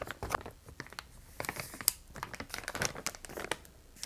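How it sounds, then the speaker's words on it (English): A small plastic bag being packed and handled while storing knitting and spinning gear, giving close, irregular crinkling and rustling bursts throughout with no voices. "I had everything fit into this small plastic bag"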